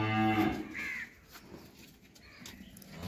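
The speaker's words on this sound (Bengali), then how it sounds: "এই হলো 2 নাম্বার একটা ফ্রিজিয়ান বকনা বাছুর" Friesian heifer calf mooing, one short close low moo at the start, followed by quieter farmyard background with faint bird calls.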